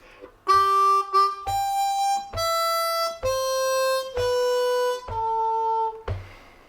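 A C harmonica in first position, lower octave, plays the next line of "Happy Birthday", a run of seven held reedy notes in even rhythm, loud and close with no voices.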